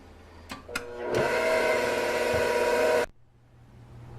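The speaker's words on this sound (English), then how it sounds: "we are going to mix until firm peaks" An electric hand mixer whips cream toward firm peaks, starting with a couple of short bursts and then running as a steady, loud whir for about two seconds before switching off into quiet room hiss.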